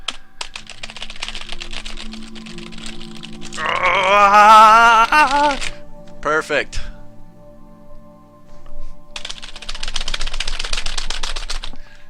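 Fast, hard typing hammers on a computer keyboard in rapid clattering bursts, close and loud, broken by a stretch of a person speaking and a short pause before the keys pound again.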